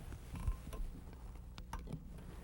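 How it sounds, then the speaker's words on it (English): Metal tubing is bent slowly by hand toward a valve, giving quiet, close creaks and faint mechanical strains in short irregular bursts. "I'm going to grab the other end of it and I'm going to bend it down just to the outside of this tubing here"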